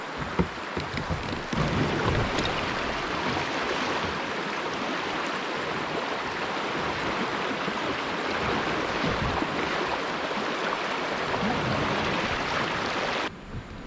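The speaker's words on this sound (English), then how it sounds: "That was the longest, like, rapids area where it's real rocky." A rocky creek in east Tennessee rushes over rapids, a dense, continuous splashing roar close by that holds steady and then cuts off abruptly at the end.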